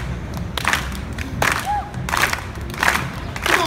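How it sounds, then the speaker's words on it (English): An audience at a street performance at Boston's Faneuil Hall claps and cheers, with repeated swells of cheering and applause rising over a constant crowd din. "Make sure you clap early, because it ain't going to last very long"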